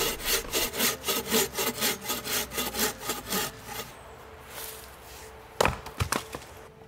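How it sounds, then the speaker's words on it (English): Downed hardwood is being sawn by hand for firewood, with rhythmic back-and-forth rasping strokes close by, then a pause and a few sharp knocks of wood near the end. "I tried to cut and split any downed hardwoods I found around."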